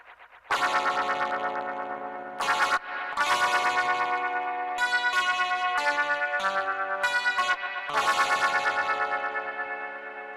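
An electric guitar plays sustained, heavily processed chords with bouncy, echoing effects, broken by brief pauses between strums.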